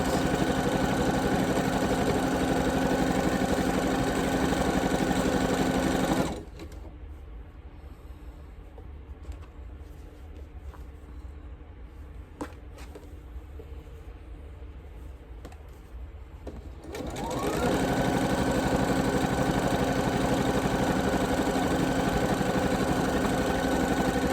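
A sewing machine stitches a quilt, running in a loud, steady mechanical whir that stops for about ten seconds of near quiet with small handling clicks, then starts again.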